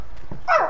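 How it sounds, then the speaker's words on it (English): A single short dog bark or yip at close range, brief and fairly faint in a quiet indoor space. "Dog, be quiet."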